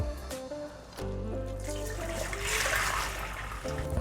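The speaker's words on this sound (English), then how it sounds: "Now we're gonna take our dashi here and return it to our pot." Dashi stock for miso soup is poured back into a cooking pot. Liquid trickles and splashes close by, with the pour heaviest in the middle of a few seconds.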